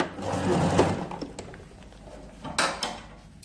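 Sewing machine topstitching a seam allowance, a brief loud run of stitching at the start that fades to quieter handling and a couple of short mechanical clicks.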